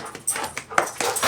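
A dog whimpers and lets out short barks in a few brief bursts, close and fairly loud, with no talking over it.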